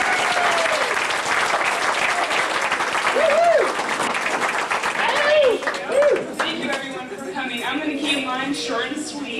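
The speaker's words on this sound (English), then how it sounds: "Let's give her a round of applause" A wedding reception crowd gives sustained applause for the maid of honor, dense clapping throughout with whoops and cheers rising over it and voices mixed in.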